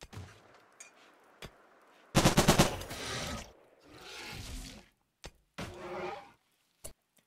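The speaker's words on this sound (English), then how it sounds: "Armor penetration 50 on the heavy machine gun" A heavy machine gun fires in a RimWorld battle, with one dense burst of rapid cracking shots followed by a few shorter, quieter bursts and isolated single reports.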